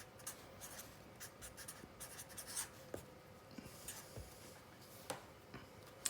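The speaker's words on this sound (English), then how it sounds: "I'm going to write down some questions" A pen writing questions by hand makes a close, quiet run of scratchy strokes and small taps, with light irregular scribbling and a few sharper ticks, heard alone.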